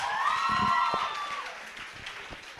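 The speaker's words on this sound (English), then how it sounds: "can we give yourselves a round of applause?" Students of FGGC and GSS applaud and cheer at a Nigeria 65th independence event, with whoops and shouts over sustained clapping that fades through the second half.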